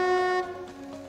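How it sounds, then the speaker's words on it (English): Train snow plow clearing railway tracks, with a loud tonal horn blast that cuts off abruptly, followed by a fainter rumbling mechanical tail from the moving train. "What is that, a train? A train plow. Clearing off those tracks."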